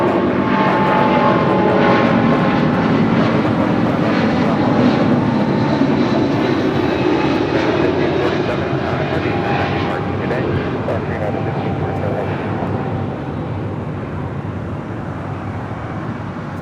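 An airliner on approach to runway 25 left at Los Angeles International Airport, its engine roar steady, broad and loud throughout, easing slightly toward the end, with faint voices underneath.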